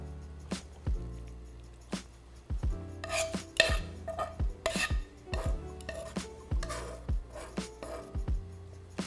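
Noodles and a utensil scrape aglio e olio sauce around a frying pan, with irregular rasping strokes, light metallic clinks and soft knocks on the pan, fairly close and without talk.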